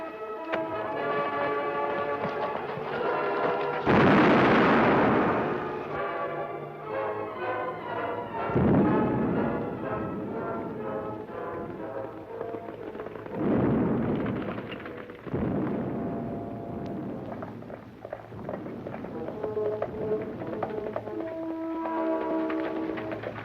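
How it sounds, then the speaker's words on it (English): Explosive blasts go off in a rugged Old West setting, several deep booming bursts several seconds apart rolling over a loud, continuous musical score. "Those blasts sure sound good, don't they?"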